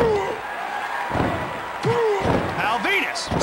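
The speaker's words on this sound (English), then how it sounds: "Pal Venus, slammed onto the canvas!" Heavy thuds of a wrestler being slammed onto the canvas in the PS1 wrestling game WWF Attitude, landing amid a busy mix of announcer voices and crowd noise.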